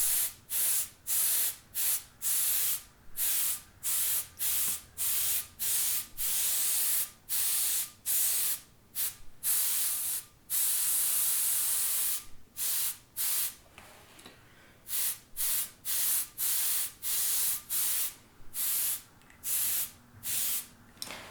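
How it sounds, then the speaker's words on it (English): A marker fitted to an airbrush sprays ink in a quick series of short, sharp hissing bursts, close and fairly loud, separated by brief pauses throughout. "I'm literally airbrushing with a marker"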